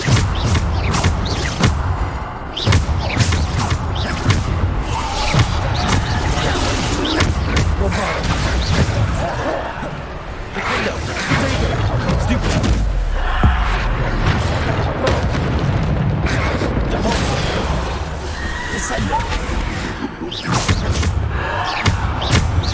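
Bombarda explosion spells in Hogwarts Legacy, loud repeated booms, thuds and crashing blasts going off close together throughout a hectic fight, with a voice shouting over them.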